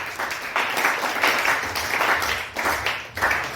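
Congregation applauding during a church service led by a pastor, steady dense clapping with rhythmic swells and brief dips, fairly loud and continuous.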